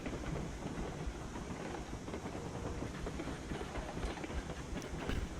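A train in the Railroads Online video game rolls slowly over a diamond crossing, with a dense, rumbling rattle of wheels and rail noise at steady level and a few faint clacks near the end.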